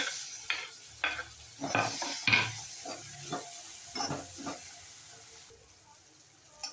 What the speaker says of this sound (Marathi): कांदा लसूण एकत्रच घालून आपण तो तळून घ्यायचा